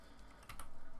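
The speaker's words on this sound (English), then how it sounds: "pressing the F2 key on my keyboard" One computer keyboard key, F2, pressed as a couple of light close clicks in quiet surroundings.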